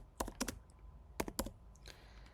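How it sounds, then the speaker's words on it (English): Keys clatter on a computer keyboard in two quick bursts of several strokes each, about a second apart, close and fairly clear with a faint softer tap afterward. "So I will type login."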